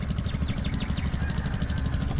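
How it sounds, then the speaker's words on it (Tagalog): An irrigation pump engine runs steadily in a rice field, a continuous low mechanical drone with a rapid chugging pulse, close and loud throughout with no pauses. "Yan guys, kahapon pa umaandar yung makina natin."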